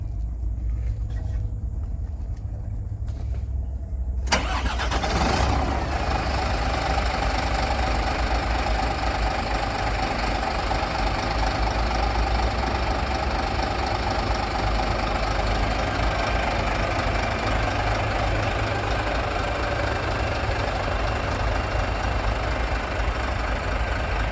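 A Scania P410 XT fuel truck diesel engine starts up after a few seconds of near silence, then settles into a loud, steady, rumbling idle that runs on unbroken nearby.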